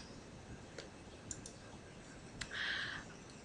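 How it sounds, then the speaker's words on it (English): Faint, sparse clicks of a computer mouse, including a right-click, in a quiet room, a few isolated taps followed by a brief higher whir. "and if I right click"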